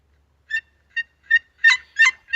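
Wild turkeys gobbling in a pine forest, a series of short, rapid gobbles and calls, starting sparse and growing louder and denser, fairly near and alone.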